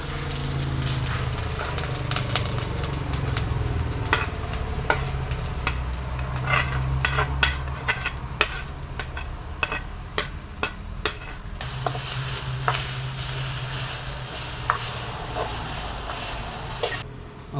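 Grated coconut roasting in a little oil in a pan, stirred steadily for a Kerala-style mushroom curry, giving a continuous close sizzle with repeated scraping strokes of the spoon against the pan.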